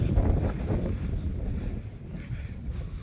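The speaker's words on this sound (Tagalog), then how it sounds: "Sarap ng hangin, lakas ng hangin." Strong wind buffets the microphone on a mountain trail at Mt. Ulap, making a steady low roaring rumble that stays loud and continuous throughout, with no talking.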